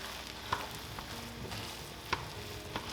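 Rice with ketchup and soy sauce being stirred and fried in a pan, a steady soft sizzle with a few sharp utensil scrapes and clicks against the pan bottom, no talking.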